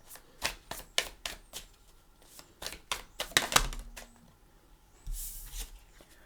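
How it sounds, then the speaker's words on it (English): A deck of tarot cards is shuffled in a series of quick riffles and snaps, crisp and close, with a brief rustle near the end. "Alright, we're going to shuffle for the cards."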